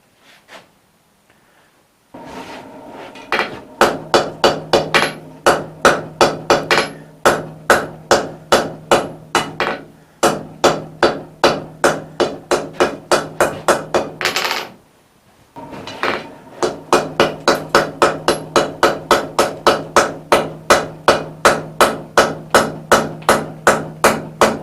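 A flat bar collar is forge-welded with rapid, ringing hammer blows in long steady runs. The strikes are loud and close, with two brief pauses between bursts and no voices.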